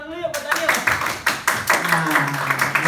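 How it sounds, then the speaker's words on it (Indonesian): A small group of students claps during a classroom public speaking session, with a burst of close, uneven handclaps that continues under people talking. "tepuk tangan dulu ya buat Daniel."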